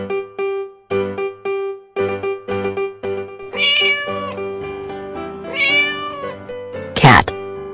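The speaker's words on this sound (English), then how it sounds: "Cat." A cat meows several times, rising and falling over a plucked, rhythmic music track, and a short sharp burst comes near the end.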